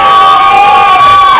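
A live audience cheers, shouts and whoops loudly in one short, dense burst with no talking.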